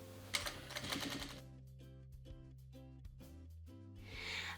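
A sewing machine stitches a zipper seam, starting with a burst of fast mechanical clatter, then running in quieter rhythmic pulses, close by with no talking.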